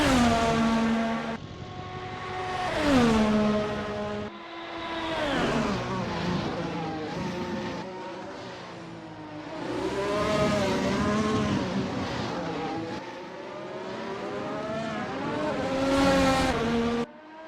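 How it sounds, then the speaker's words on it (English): A race car at speed on the back straight at Sepang, its engine screaming loud and close with rising and falling pitch sweeps as gears change, continuous throughout with no talking. "Moriarty's pushing down the back straight right now at around 300 kilometers per hour"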